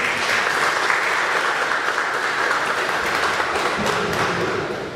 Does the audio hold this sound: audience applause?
yes